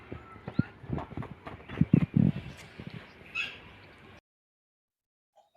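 Hooves clip-clop irregularly on hard ground for about four seconds, close and moderately loud, with a few heavier thuds, then silence.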